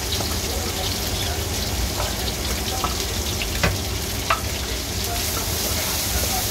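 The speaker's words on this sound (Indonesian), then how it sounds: "Jadi semuanya itu ditumbuk halus, setelah itu ditumis barengan sama bahan yang tadi sampai matang." Pounded ground chili spice paste stir-fried with other ingredients until cooked, a continuous dense sizzle with occasional sharp scrape and clink accents from stirring, no talk.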